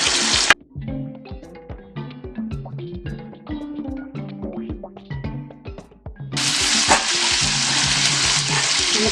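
Fish fries in a pan over a low flame, a soft crackle with clicks of a spatula moving pieces, then a sudden loud, bright rush of sizzling surges in for the last few seconds.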